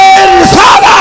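At a religious gathering, a crowd bellows a loud, unified shout in answer to a takbir call, a brief roaring chorus of many voices close and overpowering.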